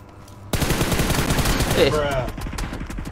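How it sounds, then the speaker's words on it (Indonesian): Rapid bursts of video game gunfire erupt after a quiet half second, an enemy firing down from above, loud and continuous automatic shots with a sharp ricochet-like whine partway through. "Eh, dia nembak gue dari atas."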